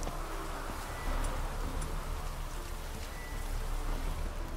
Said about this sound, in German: Es regnet übrigens wieder, mal so nebenbei